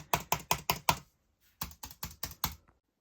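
Two quick bursts of crisp key taps on a thin 2017 MacBook butterfly keyboard, five clicks each, separated by a short pause, close and clear.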